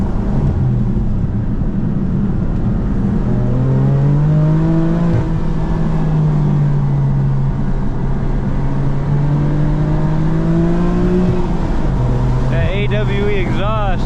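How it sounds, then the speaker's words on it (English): A BMW M4 F82 with an AWE exhaust drones steadily from inside the cabin, its engine note rising and falling in smooth sweeps, loud and continuous, with a brief change near the end. "AWE exhaust sounds so good."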